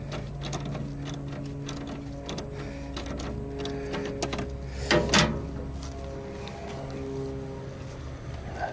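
Socket wrench ratcheting on a bolt while securing a minisplit and energy recovery ventilator, rapid clicking strokes close by with a brief louder clank near the end.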